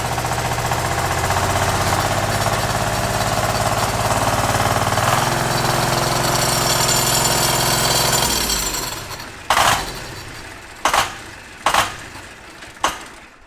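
A loud, rough diesel V-twin engine on a go-kart runs steadily with a harsh, rattling drone, then cuts out, leaving a few sharp sputtering bursts at uneven intervals.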